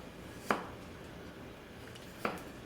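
A Masakage Mizu 210mm gyuto knife cuts through a potato, giving two crisp, separate chops against the board with quiet pauses between them.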